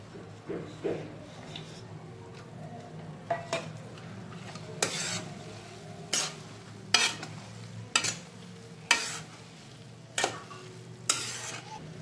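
Mung dal halwa is stirred with a spatula in a pan, with a quiet background sizzle and about a dozen sharp scraping and tapping strokes against the metal at an uneven rhythm, close by and without speech.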